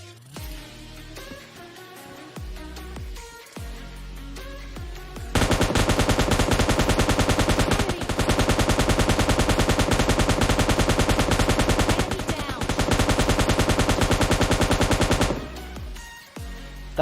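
Gunfire in the mobile game PUBG Mobile Lite: scattered shots, then a loud, sustained burst of rapid automatic fire lasting about ten seconds, with no talking.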